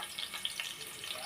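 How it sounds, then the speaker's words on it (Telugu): Onion frying in hot oil after garlic, a faint, close, steady sizzle with small crackling pops throughout. "వేగినాక ఉల్లిపాయ వేయాలి."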